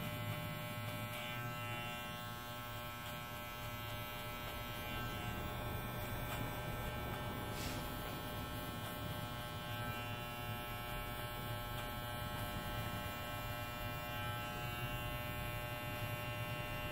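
Electric hair clippers set to a zero guard run through a traditional side fade haircut, giving a steady close buzzing hum that holds without a break from start to end.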